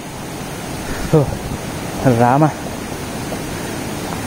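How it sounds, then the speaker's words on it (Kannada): Water of Vibhuthi Falls, a waterfall in Karnataka, makes a steady broad rushing hiss throughout, with a couple of brief voices speaking over it. "ಅದು ಫಾಲ್ಸ್ ನೀರು ಹರಿತಿರೋದು."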